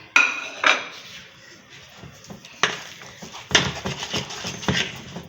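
A spoon stirs masala with a pinch of kasuri methi in a pot while making bhap badi, giving a few sharp clinks and scrapes against the metal between quieter pauses.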